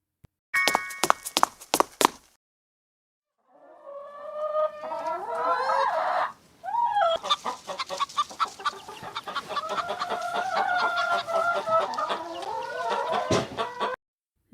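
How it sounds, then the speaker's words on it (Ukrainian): A speckled hen clucks close and loud in a steady run of short, throaty clucks, with a brief burst of sharp calls at the start and no voices. "Це рябенька курка."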